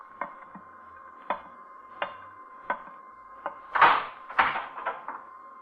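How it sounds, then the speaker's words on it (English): A door being opened in an old suspense radio mystery drama: a series of sharp, evenly spaced knocks or clicks over a steady hum, then a louder rattling scrape as it swings open. "you will rise from your seat and open that door."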